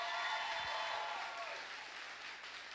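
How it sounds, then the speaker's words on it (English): Applause from a live studio audience at a televised talent finals, a quiet, fairly distant wash of clapping that fades gently toward the end. "Everybody give them a round of applause in our live studio audience"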